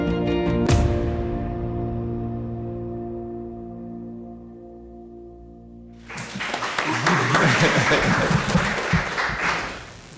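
An audience at a talk on rights, justice and economics bursts into applause after a sustained chord fades out, dense clapping rising loud and continuing for several seconds before cutting off.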